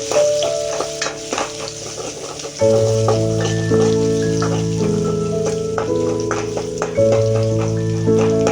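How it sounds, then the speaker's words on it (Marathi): Ginger and green chillies sauté in a hot pan as a base for chicken soup, a steady close sizzle with occasional stirring and scraping, loud and continuous with no talk. "नंतर टाकूया हे आलं, नंतर टाकूया ह्या हिरव्या मिरच्या। तर छान जरा त्याला परतवून घेऊया।"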